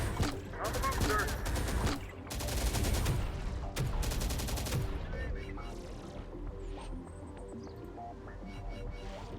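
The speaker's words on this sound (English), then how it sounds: "Vehicle taking fire!" Heavy gunfire striking a vehicle in the game Terminator: Dark Fate - Defiance, a loud clustered barrage of shots in the first half that thins into scattered distant pops and rumble, with in-game voices calling out underneath.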